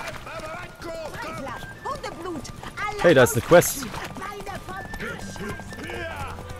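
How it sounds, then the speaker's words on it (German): Horse hooves clip-clop at a gallop during a horse race in the video game The Witcher 3, a steady rhythmic beat running under near continuous talk, with a brief louder burst midway. "wir machen jetzt auf jeden Fall Pferderennen"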